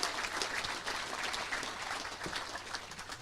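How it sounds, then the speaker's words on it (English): Steady clapping from a crowd at an awards banquet, dense and continuous, filling the space without a break for several seconds. "So give yourselves a round of applause"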